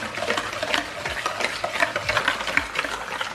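Cocoa powder being stirred into brownie batter in a mixing bowl, giving a steady run of soft scraping and slapping strokes close up, with no talking.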